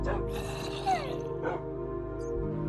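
Small dogs yip and bark in a fantasy tabletop-style video game, a few quick yaps over steady game music and effects, with a voice talking.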